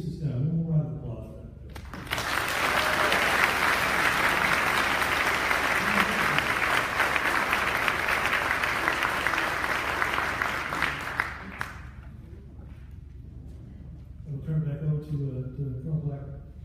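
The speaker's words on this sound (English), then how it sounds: "before you sit down, one more round of applause" A gathering cut loose with a long, loud round of hand clapping that swells abruptly, holds steady for about ten seconds, then fades, with people talking before and after it.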